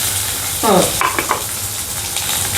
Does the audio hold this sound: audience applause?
no